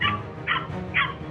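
A pet dog yelps three times in quick, sharp bursts, close and loud, while being attacked by a coyote.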